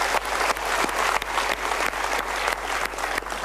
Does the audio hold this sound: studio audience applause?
yes